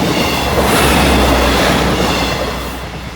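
A 12:41 East Midlands Railway passenger train from Lincoln Central to Leicester rumbles steadily past Doddington Road, loud and close, with broadband roar and faint wheel clatter easing slightly toward the end.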